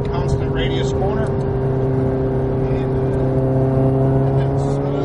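A Ferrari 430 Scuderia accelerating out of a corner on a track, its engine a loud, steady drone that builds slightly in pitch, with someone talking over it.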